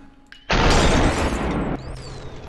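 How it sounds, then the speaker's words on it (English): A gunshot striking glass in SuperHot, a sudden loud burst that holds for about a second before dropping to a fading hiss, up close with nobody speaking. "the glass deflected the first shot"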